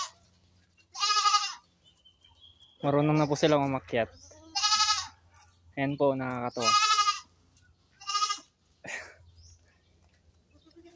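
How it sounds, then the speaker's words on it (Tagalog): Goats bleat loudly several times in quick succession, nasal wavering calls close by, with a person talking between them. "kambing natin"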